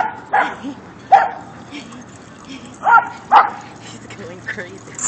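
A large dog barks at a dog park, several sharp, close barks and yips at irregular intervals, with people talking nearby.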